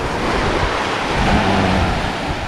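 South China Sea waves wash onto a beach in a loud, steady roar of surf, heard up close with gusty wind buffeting the microphone.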